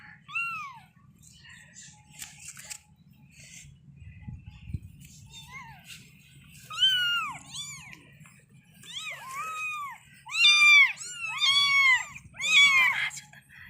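A cat meows repeatedly and close, soft cries at first growing into a run of louder, insistent meows, with faint background noise and a brief voice.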